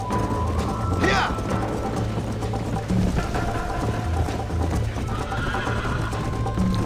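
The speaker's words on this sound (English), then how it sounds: "when you're riding the horses" A horse whinnies and hooves clip-clop at a gallop during a ride in Red Dead Redemption. The whinny comes through clearly over steady hoofbeats and a constant background drone, with no talking.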